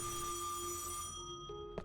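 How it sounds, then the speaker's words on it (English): A telephone ringing in the video game Death end re;Quest 2, a steady electronic tone with bright sustained overtones that cuts off partway through, followed by a couple of short soft blips, quiet and alone. "there's a phone ringing"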